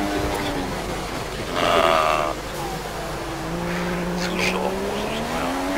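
Racing car engine from a racing video game, its whine rising and falling in pitch, with a sharp burst of tire squeal partway through and faint voices in the background.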